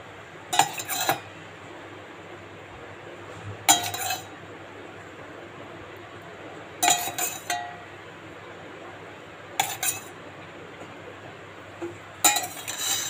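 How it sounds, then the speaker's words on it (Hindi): An appe pan on a gas stove is oiled, bringing five separate bursts of bright metallic clinking and scraping spread across the stretch, each brief and fairly close, with quiet hiss between. "हमने गैस पे एक अप्पे पैन रखा है, इसमें हम थोड़ा थोड़ा तेल लगाएंगे।"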